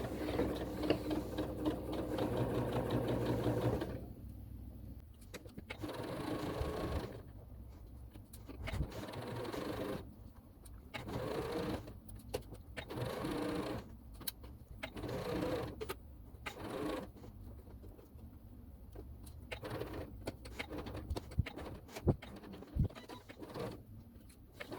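A sewing machine stitches a quarter-inch seam on a fabric sleep mask, running in a series of short, close bursts of rapid mechanical whirring separated by brief pauses.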